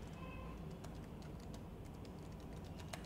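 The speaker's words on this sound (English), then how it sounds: "I'll just type here as option" Quiet, scattered taps on a computer keyboard over a steady background hiss, light irregular keystrokes for a few seconds with no talking.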